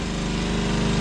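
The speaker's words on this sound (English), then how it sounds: "I'm sorry I can't make it quiet because I'm not turning the pump off" A swimming pool pump drones continuously in the background, a loud, steady mechanical hum with a motor-like whine and no variation across the brief stretch.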